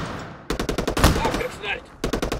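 Automatic gunfire in a first-person shooter video game rattles in two rapid bursts of close, loud shots, separated by a brief lull with a faint metallic clink.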